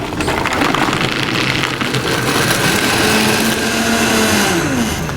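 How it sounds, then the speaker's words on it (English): A Vitamix blender runs loud and steady, blending tea into frothy nut milk with the jar filled only halfway, its motor whine holding close and continuous throughout. "you guys get that loud Vitamix sound"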